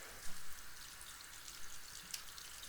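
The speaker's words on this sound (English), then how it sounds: "you just run it under the water" Faint hiss of running tap water over a Skull Shaver Pitbull Pro Silver head being rinsed in a sink, soft and continuous with a few small splashes.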